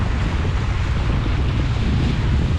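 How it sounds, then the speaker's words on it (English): Strong wind roars across the microphone aboard a Mirror dinghy racing in big waves on Lake Bala, a loud, continuous buffeting rumble with the wash of water mixed in and no voices. "there's a nice bit of wind there"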